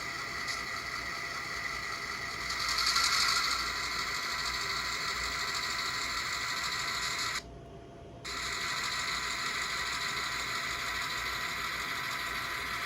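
A Bachmann N scale GP38-2 model locomotive in CSX colors runs on track with a steady, close mechanical whir and gear hum. The sound briefly swells, then cuts out for under a second as if stalling before resuming evenly.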